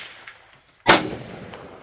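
A single sharp rifle shot, a 7.62x39 round of Sellier & Bellot ammunition fired at a range, cracks loudly out of near quiet and then trails off into a brief rumbling echo.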